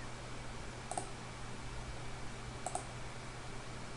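Two crisp, quiet mouse clicks about two seconds apart while editing in Adobe Premiere Pro, heard alone over a faint electrical hum.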